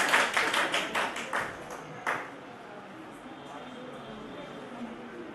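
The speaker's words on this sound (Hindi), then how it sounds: "जोरदार तालियां भाई" An audience at a poetry festival in Palam, Delhi claps in a quick burst of separate, close hand claps that thin out after about two seconds into a low room murmur.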